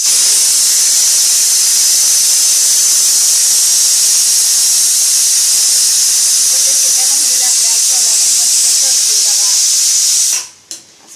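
Bhatura frying in hot oil gives a loud, steady close-up sizzle that holds for about ten seconds, then cuts off abruptly.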